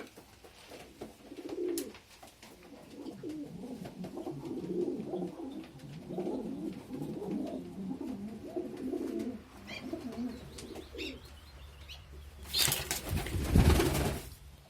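Pigeons in a loft, freshly brought back from a bird fair, give low, soft cooing calls in repeated phrases through most of the stretch. A rustle and a burst of wing flapping come near the end.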